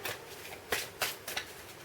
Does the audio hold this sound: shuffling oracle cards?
yes